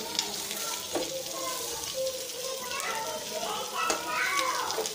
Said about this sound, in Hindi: ताकि इसमें मसाला भी आ जाए और अंडा दोनों तरफ से फ्राई हो जाए